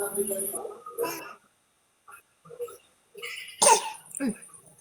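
A few short, harsh coughs from a nearby person, separated by quiet pauses, with a bit of talking at the start.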